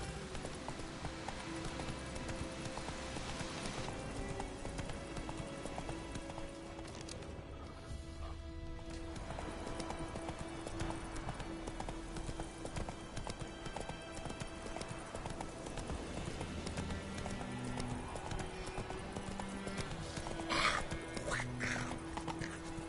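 Roach the horse galloping in The Witcher 3, a continuous rapid clip-clop of hooves running under game ambience and music, steady and moderately loud throughout.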